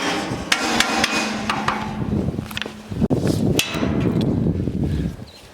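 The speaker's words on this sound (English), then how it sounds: "I'm going to give this a tap on the side here" A hammer taps the side of an iced-up sheave on an International poma surface lift at Fall Creek, giving a series of sharp, ringing metallic knocks at irregular intervals, close and loud.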